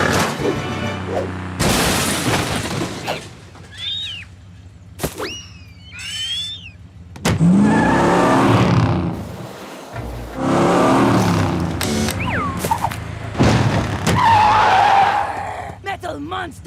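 A cartoon car skids and squeals through the jungle while doing donuts, with repeated loud tire screeches and engine bursts mixed with voices and sound effects.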